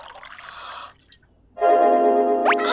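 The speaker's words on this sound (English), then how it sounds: "now we're going to put our water into our mixing bowl" Water is poured into a kitchen mixing bowl in two bursts with a short gap between them, and the second pour splashes louder and fuller than the first.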